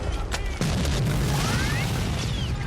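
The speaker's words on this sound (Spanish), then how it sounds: "Las balas repican contra el hierro." Sharp metallic impacts and pops of bullets striking iron ring out over a roaring wall of film battle noise, with a few thin whining ricochet tones.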